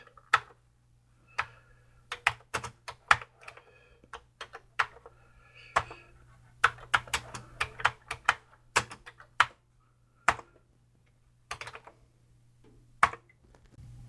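Fingers type on a computer keyboard beside a Hitachi VM-910AU monitor, giving close, crisp key clicks in irregular bursts with short pauses, alone over a faint steady hum.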